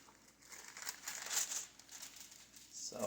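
Close, soft crinkling of a hair foil being crumpled during bleach highlighting, a fairly quiet rustle that rises and falls over a few seconds.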